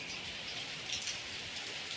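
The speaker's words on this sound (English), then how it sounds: "It's raining heavily here." Heavy rain pouring down steadily, a dense, even hiss of drops striking surfaces with no break, fairly faint overall and with no voices.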